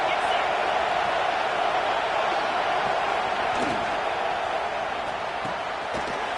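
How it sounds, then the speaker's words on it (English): A college football stadium crowd at a UCLA game, a dense continuous roar filling the space at steady high volume throughout. "this crowd is turning it up a notch"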